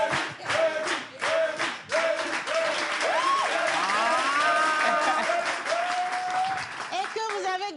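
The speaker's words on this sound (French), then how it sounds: "s'il vous plaît, applaudissez" An audience applauds, a loud sustained wash of clapping with some cheering. A voice speaks loudly over it.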